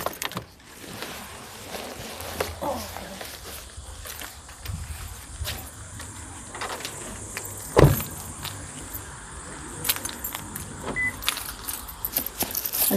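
Keys jangle and drop outside a house in several short metallic bursts, with a sharper clatter midway, over steady traffic and a car engine hum in the background.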